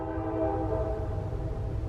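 A passing train sounds its horn with a steady, sustained tone over a low rumble of rolling wheels, fairly close and alone without voices.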